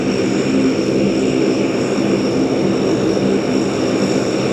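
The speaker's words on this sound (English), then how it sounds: "let's get ready for the Herc to take off. Can't beat the sound of a Herc." A C-130 Hercules turboprop transport takes off at a military air exercise, its propellers and engines giving a loud, steady, continuous roar and drone with no break and no voices.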